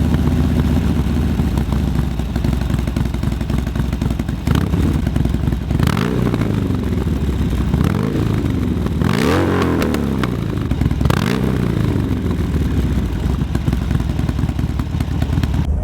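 A 2019 Harley-Davidson Sportster custom build fires up and revs, its loud close engine rumbling steadily with several sharp throttle blips rising and falling over the idle.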